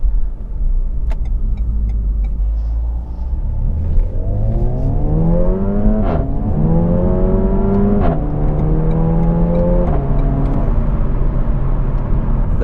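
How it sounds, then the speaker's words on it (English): A Renault Megane RS with six-speed dual-clutch automatic accelerates close by, its engine note climbing steadily through several gear changes with brief dips between shifts, loud and alone with no talking. "I really love the sound of this car."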